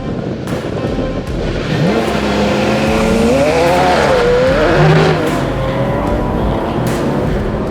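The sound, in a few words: car accelerating off the line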